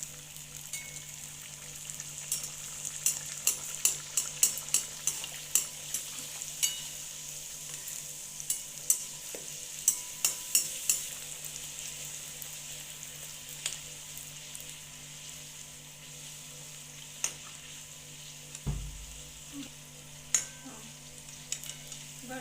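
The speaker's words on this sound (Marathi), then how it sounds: "आता ह्याला तळून घ्यायचं आपल्याला." Bhature deep-fry in hot oil with a soft, steady bubbling sizzle. Scattered sharp clicks and spatters punctuate it, with a brief low thump near the end.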